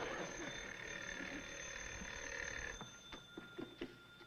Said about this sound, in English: Answer the phone. It might be another order.